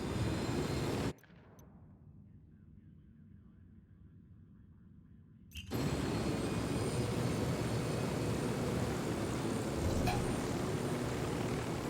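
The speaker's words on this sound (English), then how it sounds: "Helicopter, get down." Helicopter in the video game Far Cry 6, a steady loud rotor and engine roar that cuts out abruptly to a muffled rumble for a few seconds, then returns at full strength and holds.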